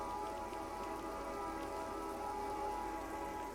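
Steady rain falls on surfaces across the Train map in Counter-Strike 2, a dense even hiss of drops that holds at constant loudness throughout with no voices.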